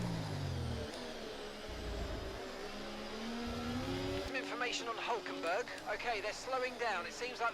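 An F1 race car in the F1 24 video game roars and revs, its engine note climbing and dropping through gear changes, while someone talks over it for much of the clip.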